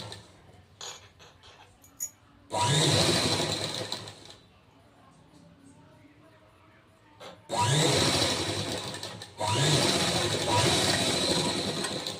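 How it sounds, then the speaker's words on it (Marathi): A sewing machine stitches down the folded-in waistband strip of a princess-cut blouse. It runs in two bursts of steady, close mechanical whirring, the second longer, with quiet handling of cloth between them. "आतल्या साईडला फोल्ड करून वरतून एक शिलाई करून घ्यायची आहे"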